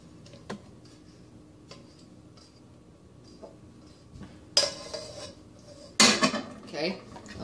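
Bowls and dishes are handled, with light ticks and taps in a quiet room followed by two louder ceramic clatters and scrapes near the end.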